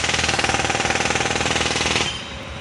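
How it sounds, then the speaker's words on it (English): A jackhammer pounds at midnight in a rapid, steady rattle of close, loud blows that cuts off abruptly near the end, leaving a faint hum. "jackhammer at midnight."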